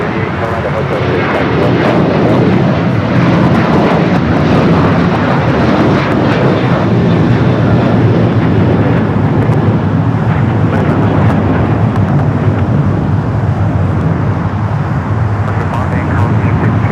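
A United Airlines Boeing 737-800 bound for Columbus takes off at LAX, a loud, steady jet roar sustained throughout with wind buffeting on the microphone and faint voices underneath.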